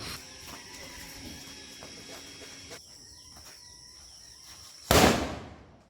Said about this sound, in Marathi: तर आता जातो बाहेर आणि फटाके वाजवतो.